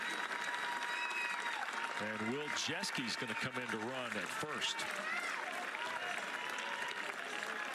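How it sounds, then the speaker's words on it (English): Nebraska crowd at a college baseball NCAA Tournament game against Oklahoma applauding a substituted player, a broad, steady wash of clapping and cheering from a distant stadium crowd running throughout, with a commentator talking over it partway. "He'll get a nice round of applause from the Nebraska folks here."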